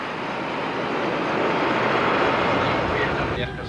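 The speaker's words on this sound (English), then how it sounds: "Now it's time to fire up the main engines." A DC-9 airliner's main jet engines start up on the ground, a steady broadband roar that swells slightly and then eases near the end.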